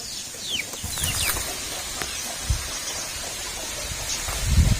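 Hens cluck and chicks peep softly over a steady background hiss, with a few scattered thuds; faint and somewhat distant, no talking.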